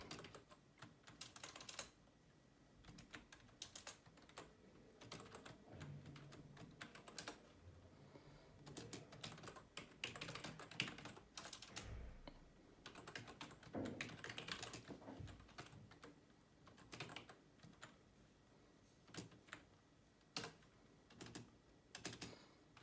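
Code is typed on a computer keyboard in steady, rapid clicking with a few brief pauses, faint and close, continuing alone for over twenty seconds.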